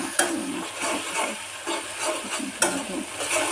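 Fish and spices stirred and fried in oil, with a steady close sizzle broken by repeated scraping stirs of the spatula across the pan and no one talking.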